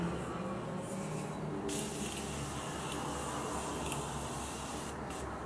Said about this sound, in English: Morphe setting spray.